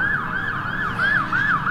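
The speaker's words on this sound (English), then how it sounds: "Sirens blare as they head toward Laundry headquarters." Emergency vehicle sirens blare steadily, a rising-and-falling wail repeating roughly every third of a second to half second, loud and close over a low road rumble as the vehicles head toward a laundry company headquarters.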